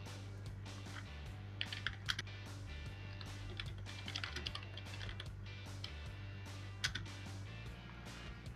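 Computer keyboard keys clatter in irregular bursts of quick taps while someone fills in a quiz form online, over a steady low hum, fairly soft and without speech.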